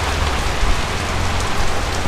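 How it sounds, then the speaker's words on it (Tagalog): Heavy rain pours down hard at Mahogany Market in Tagaytay during a storm, a loud, steady, dense roar of drops on surfaces close by, with no talking. "Sobrang ano, sobrang lakas ng ulan."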